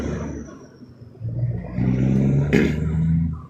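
A car engine with its exhaust removed revs loudly, starting from a rough idle and climbing into a sustained, throaty roar with a sharp burst partway through, close and without talk.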